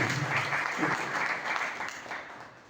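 An audience applauds a flute performer at a local public event in Alwar, India, a dense burst of many hands clapping that holds steady and then fades slightly toward the end.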